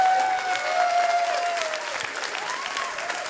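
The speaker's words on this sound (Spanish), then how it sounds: "¡Fuerte el aplauso, Ibarreche, banda!" Comedy club audience applauding comedian Javier Ibarreche after a stand-up set, a full steady burst of clapping with a host's voice over it at the start.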